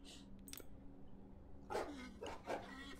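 A robotic mechanical dog in the video game Septerra Core barks twice in quick succession, close and clear, after a quieter stretch with small electronic blips.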